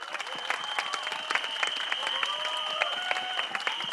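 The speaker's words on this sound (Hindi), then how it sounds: "तो क्या आप अपना प्यार और अपना हौसला इन्हें देंगे तालियों के जरिए?" Audience applauding at a Bollywood launch event for Farhan Akhtar's film 120 Bahadur, a dense steady clapping crowd close and moderately loud throughout, with a faint whistle-like tone running over it and a little crowd voice.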